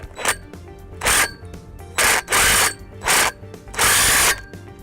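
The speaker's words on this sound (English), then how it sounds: "we're just going to tighten up the bolt closest to the post." Impact driver tightening a bolt on a Gallagher Mega Anchor fence bracket beside a post, sounding as five loud, short buzzing bursts of about half a second to a second each, separated by brief quiet gaps, with no talk.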